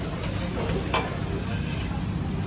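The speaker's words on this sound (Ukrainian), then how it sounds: "Тут смажать рибу і м'ясо." Fish and meat sizzle as they fry at a hotel restaurant cooking station in Salou, Spain, giving a steady dense crackle with a few faint clinks in a busy room.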